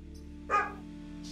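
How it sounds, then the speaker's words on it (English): A single short dog bark rings out once, fairly distinct but not very loud, heard indoors over a low steady hum. "That's my dog barking"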